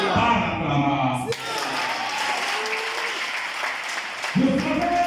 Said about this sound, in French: je suggère donc que nous fassions des félicitations par acclamation